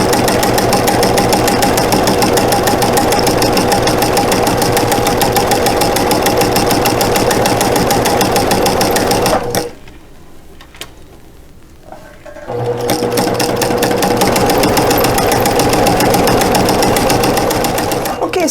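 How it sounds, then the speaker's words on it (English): A sewing machine stitches a quilt strip set in a fast, steady mechanical chatter, stops for about three seconds of near quiet with a faint click, then runs again at the same brisk pace. "Okay, so I'm done sewing my first part of my strip set."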